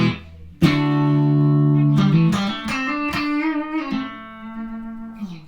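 Electric guitar played through a compressor pedal with the reverb switched off, sustained chords and single notes ringing out evenly with a smooth, squeezed attack, loud and close, no voices.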